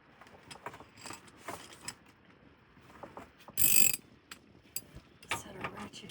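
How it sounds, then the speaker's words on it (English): A mechanic's ratchet turns a cleaned, previously rusty suspension bolt, giving a close series of quick clicking and mechanical rattles with one louder burst of grinding noise midway. "Set our ratchet gear going."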